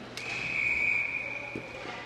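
A referee's whistle sounds at an ice hockey game, one sustained shrill blast lasting over a second amid faint arena noise and scattered thumps.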